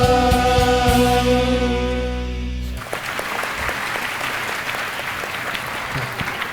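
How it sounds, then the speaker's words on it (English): Audience applause at a school investiture ceremony, heard as a broad wash of clapping that takes over after a few seconds of fading music and holds steady to the end. "Once again, let's clap for Himanshu sir and the team of Bulkus"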